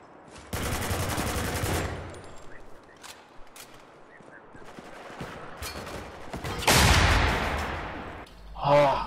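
Bursts of automatic gunfire from the multiplayer shooter Spec Ops The Line, a long loud volley followed by scattered shots and a second heavy burst near the end, with a voice speaking in between.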